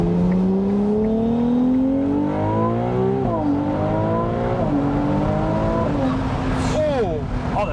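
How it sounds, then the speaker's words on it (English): Ferrari 296 GTB revving up through its gears with turbo whistle and whoosh, the engine note climbing in repeated strong pulls heard from inside the car, with a hiss of turbo blow-off near the end. "Oh, the turbo sound. The turbo sound was awesome."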